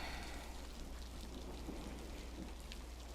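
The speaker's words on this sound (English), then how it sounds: "The rain is so soothing." Steady rain falls as a soft, continuous hiss with faint low rumbling beneath, distant and quiet throughout, with no voices over it.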